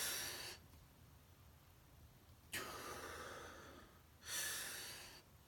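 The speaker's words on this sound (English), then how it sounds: "you have to breathe very deeply and very like strongly" Three deep, strong breaths taken before stepping into a cold shower, each a loud, forceful rush of air lasting a second or more, separated by quiet pauses, close to the microphone.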